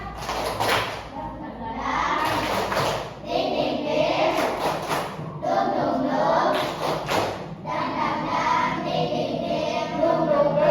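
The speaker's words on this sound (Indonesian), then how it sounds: "Tepuk semangat." An Indonesian primary school class performs a rhythmic spirit clap, groups of quick claps bursting in a repeating pattern between bouts of children chanting together in unison.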